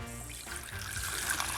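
Water poured into a pot for Korean doenjang jjigae (soybean paste stew), a steady close-up trickle and splash as the pot fills, with no talking.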